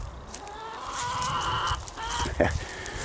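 Several chickens cluck and murmur steadily close by, with a few louder squawks rising above a noisy farmyard background.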